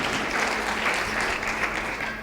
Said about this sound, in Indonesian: boleh beri tepuk tangan Bapak Ibu